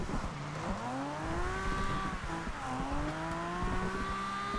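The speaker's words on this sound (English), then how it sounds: "Engine sounds brilliant." A 1969 Nissan Fairlady Z engine in the racing game Forza Horizon 2, driven in the rain with a drift tune, revs loudly and climbs steadily through the gears with rising whines and brief dips at shifts.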